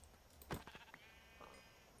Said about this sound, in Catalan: He descobert que la gent mata les ovelles saltant i es moren de la primera.